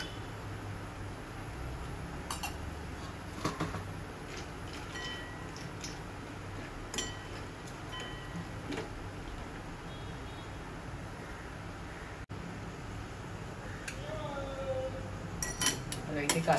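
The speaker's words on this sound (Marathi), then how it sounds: "आता यामध्ये मी हे काजू भाजून घेते" Cashews dry-roasting in a pan for methi ladoos, heard as quiet scattered clinks and scrapes of a spoon against metal over a low steady background hiss.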